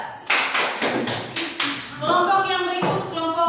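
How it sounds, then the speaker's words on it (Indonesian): A school class applauds a student group with a few sharp, rhythmic rounds of clapping close by, then the clapping fades under children's voices chattering. "Tepuk tangan dulu untuk kelompok 4."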